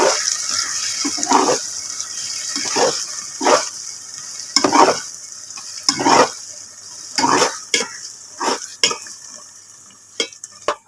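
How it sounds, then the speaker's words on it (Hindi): A spoon stirs semolina halva frying in a pan: steady sizzling hiss throughout, broken by repeated scraping strokes against the pan at an uneven rhythm, close and moderately loud, with no talking. "तो हमने चमचा अच्छे से हिलाना है।"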